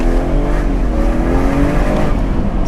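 Modified BMW M240i engine droning and climbing in revs while driving, with rising harmonic engine tones held steady and loud throughout, no talking.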